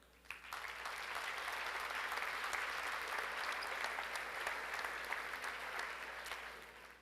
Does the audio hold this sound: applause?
yes